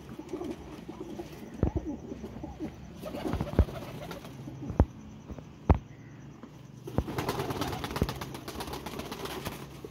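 Pigeons, including golden pigeons, cooing in a loft, low murmuring coos running throughout with scattered sharp taps and wing flutters, and a brief busier stretch toward the end.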